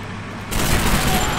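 Rifle gunfire from the Call of Duty 2 Back2Fronts mod, a loud dense burst that starts abruptly and keeps roaring close by to the end.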